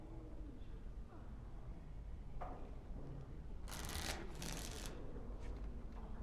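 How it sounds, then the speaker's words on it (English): In the Dragon Age: Origins card game Wicked Grace, a deck is shuffled in two quick riffling bursts over a quiet, murmuring tavern background. "Before we start, the cards must be shuffled."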